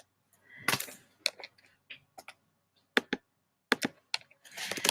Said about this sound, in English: I wonder if I should type.